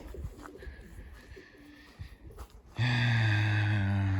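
Racing pigeons in a loft: soft rustling and faint coos at first, then a loud, close, sustained throaty cooing that swells in the last second and a half.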